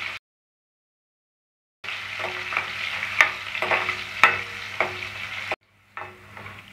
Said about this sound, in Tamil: பூண்டை கொஞ்சம் லைட்டாக வதக்கி விட்டுக்கோங்க.